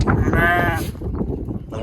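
A sheep at a Rabari herders' settlement in the Vagad area of Rapar taluka gives a single wavering bleat, close and clear, followed by murmuring voices and low background noise.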